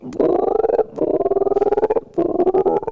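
A voice imitates a frog with three rapid, raspy croaking trills, each about half a second to a second long, with short pauses between.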